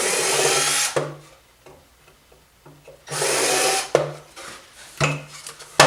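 A power drill with a countersink bit cleans up holes in wood, two loud whirring bursts separated by quieter handling and scraping knocks, close by.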